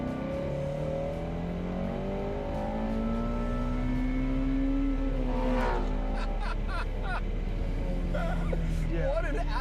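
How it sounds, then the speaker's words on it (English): A car engine revs up toward the red line, a rising, sustained drone heard close by under ongoing conversation, climbing in pitch and then easing off. "give us a rev right to the red line again, and just listen to how far it goes."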